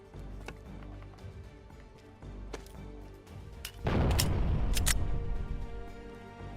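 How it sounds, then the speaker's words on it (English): A heavy explosion booms in the DayZ video game, a sudden loud blast with a rumbling tail after scattered thuds and footsteps. "Once I heard that explosion, I knew obviously someone must be raiding"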